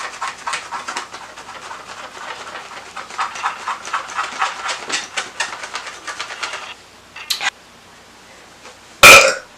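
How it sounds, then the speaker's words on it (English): A woman burps at the end, a short, loud, close belch that stands out after a stretch of busy, rustling background noise with a few brief clicks. "burp for you guys because I know you love it so much"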